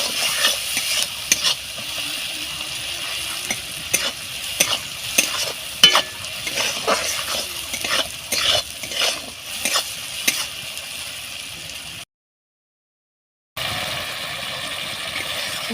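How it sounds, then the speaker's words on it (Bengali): Spice masala with salt and cumin powder sizzles in hot oil in a pan as a spatula stirs and scrapes it, with rhythmic clatters over a constant frying hiss. The sound drops to brief silence near the end, then the sizzle resumes. "একটু জিরে গুঁড়ো, মশলাটা ভালো করে কষিয়ে নেব।"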